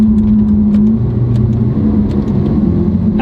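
Lamborghini Aventador Ultimae with a fully valved Valvetronic exhaust, its engine holding a steady, loud low drone at low RPM with a slight shift in pitch partway through, close by and with no talking.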